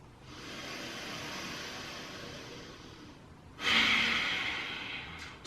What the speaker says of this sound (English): Inhaling, big belly. Exhaling, relaxing. Last breath.